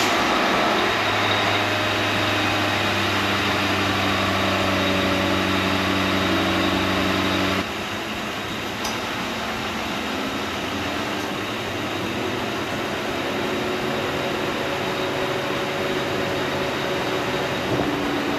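A car engine that has not run in about 8 to 10 years, idling with a steady close drone and tonal hum, which abruptly drops to a rougher, quieter running sound partway through.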